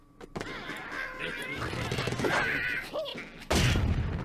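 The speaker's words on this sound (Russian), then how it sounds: "вот эта птица, она на Реда похожа, но издает звуки бомба." A cartoon bird character in the Angry Birds Seasons cherry blossom episode lets out raspy squawks amid in-game crashing and impact effects, loud and busy game audio.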